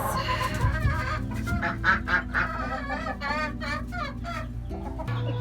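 Broody hens on their nests, giving low grumbling clucks and rising, agitated vocal calls up close, fairly loud and continuous.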